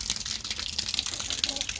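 Water gushes steadily from a hose pipe into a container, a loud, continuous close rush with no break.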